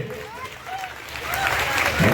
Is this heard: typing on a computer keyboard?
no